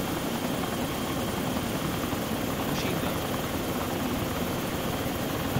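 Osprey tiltrotor aircraft in the video game Arma 2, a steady loud rotor and engine drone that holds without a break throughout, with no voices over it.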